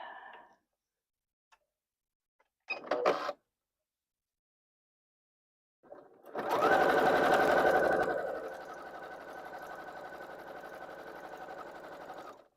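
Sewing machine stitching quilt pieces together, a short burst of running followed after a pause by a long steady mechanical whir with rapid needle ticking, close and alone.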